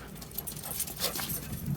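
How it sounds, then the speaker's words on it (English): Puppies pant and scamper close by, quick breathy huffs with light paw scuffles over a brief moment. "You guys didn't know you were getting a puppy race in, did you?"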